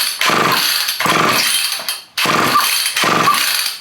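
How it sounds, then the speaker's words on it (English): A seized chainsaw is pulled over by its starter cord, each pull giving a harsh rasping squeak, five in a steady rhythm, loud and close with no talking. "You can tell it's a chainsaw because it's really squeaking."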